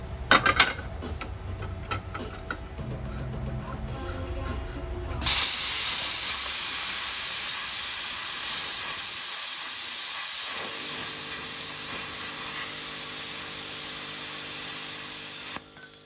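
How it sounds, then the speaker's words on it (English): An Arc Captain plasma cutter cutting thick steel for a Ford Ranger front bumper bracket: loud, steady hiss and roar that starts abruptly and holds for about ten seconds before cutting off. "my plasma cutter, the Arc Captain."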